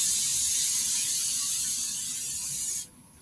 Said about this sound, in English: So make sure if you do have a griddle that you spray it